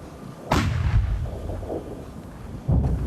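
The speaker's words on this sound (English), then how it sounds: "Ukrainian footage of a recent tank battle here, firing on the move." Ukrainian tanks firing on a frozen hillside near Bakhmut: two heavy booming blasts about two seconds apart, each with a deep rumbling tail, loud and fairly close.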